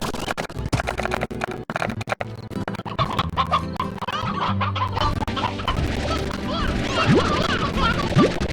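Hens in the video game Slime Rancher cluck repeatedly in a busy, overlapping flock, with scratchy scuffs and clatter mixed in, loud and near throughout.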